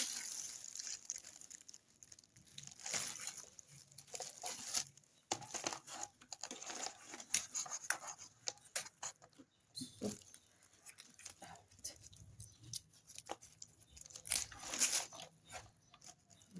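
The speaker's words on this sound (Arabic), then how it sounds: "اهو نفتح بقى الفسيخه بتاعتنا كده" Hands pulling apart fesikh, a salted fermented fish, giving close, wet crinkling, tearing and squishing sounds in irregular bursts, with no speech.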